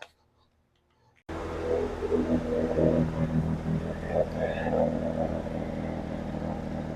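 A vehicle engine is started and left running through homemade tailpipe mufflers, a steady, somewhat loud exhaust rumble with ticking and clatter that begins after a moment of near silence.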